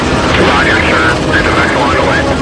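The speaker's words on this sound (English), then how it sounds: "on Cape Cod, a Coast Guard helicopter begins its response" A Coast Guard helicopter flying out on a rescue response off Cape Cod, a loud continuous rotor and engine roar that fills the whole stretch without letup.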